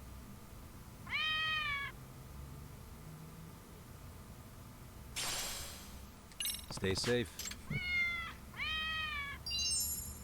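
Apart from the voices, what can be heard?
cat meowing in the video game Lost Judgment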